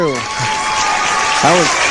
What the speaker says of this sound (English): I want to give you a big round of applause for coming out today